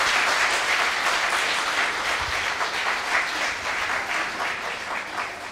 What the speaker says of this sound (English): all of them deserve a huge round of applause